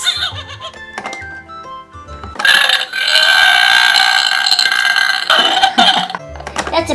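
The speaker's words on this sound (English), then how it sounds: "That's a burp sound." A toy Uggly pet from a pet shop playset plays an electronic burp, a loud buzzy belch lasting a few seconds, framed by short tinny electronic jingles.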